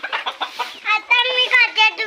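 A free-range desi chicken clucking close by on a Konkan poultry farm, a quick run of short calls followed by longer, higher squawks.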